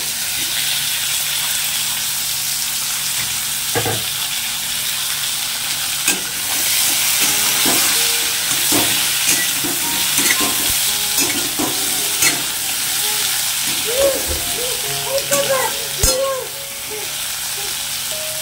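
Sliced ridge gourd and potatoes fry and sizzle in a pan, a steady hiss with repeated scraping stirs and clinks of a spatula throughout, growing busier toward the end.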